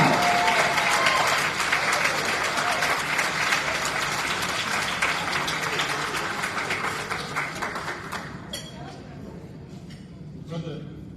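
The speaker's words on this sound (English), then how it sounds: "Let's give a roaring round of applause" A hall audience of elected municipal officials in Rocky Mount, North Carolina, gives a dense, sustained round of applause for an introduced speaker, loud at first and then thinning out and tapering off.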